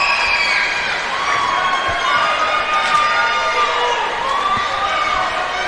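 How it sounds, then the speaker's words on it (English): A gym crowd at a regional boys high school basketball tournament game between Dardanelle and Gravette roars continuously, loud sustained cheering and shouting with high-pitched squeals and whistles riding on top. "Hear that crowd going crazy"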